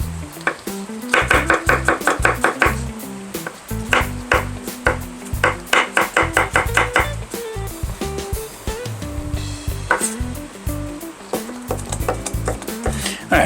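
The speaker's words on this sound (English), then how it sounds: "All right, chopping up the garlic." Garlic being chopped with a knife on a cutting board in a home kitchen, quick bursts of sharp rhythmic taps close up with pauses between, no talk.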